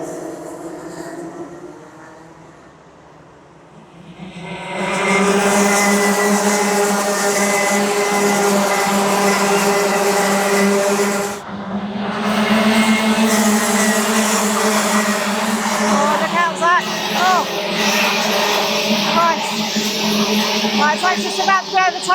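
Racing karts run at Whilton Mill during a junior kart championship final round, with a loud, sustained engine drone that swells after a quieter start and carries on under continuous commentary.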